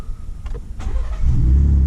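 A 2015-2019 Ford F-150 pickup cranks briefly and its engine catches, settling into a loud, steady idle close by after a short starter whir.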